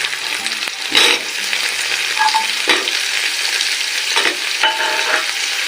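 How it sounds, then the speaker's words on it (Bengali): Diced potatoes frying with onions in a pan give a steady close sizzle, broken by a few louder bursts of stirring scrapes. "তো আলু এবার পেঁয়াজের সাথে আলুটাও ভেজে নেব।"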